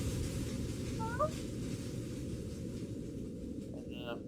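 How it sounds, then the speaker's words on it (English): A pet cat gives one brief, faint meow, mostly buried under a loud, continuous low rumbling background. "He doesn't usually meow like that, so I like to feed him when he does."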